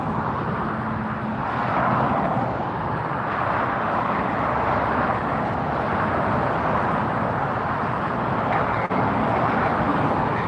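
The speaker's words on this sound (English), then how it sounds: "This is Virgin Atlantic flight 8Y headed to London, an Airbus A380" Virgin Atlantic Airbus A380 airliner at LAX producing a steady, loud broadband jet roar that holds for the full stretch, with a faint click near the end.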